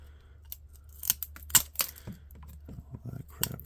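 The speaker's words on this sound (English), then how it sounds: "Get your cutters. Just cut all that crap off." Cutters snipping away old, brittle tape during a clean-up of a dryer and wall oven: several sharp, close snips and clicks spaced irregularly over a low steady hum, with faint handling noises between cuts.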